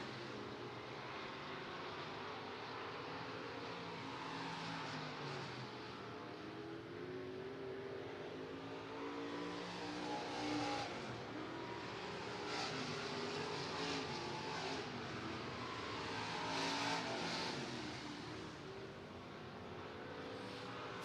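Stock cars roar around the dirt oval at Clay County Fair Speedway in a round 2 heat race, a steady broad engine drone holding loud and continuous throughout with slight swells as the pack passes.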